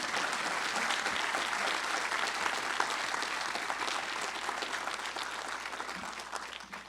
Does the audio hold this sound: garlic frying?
no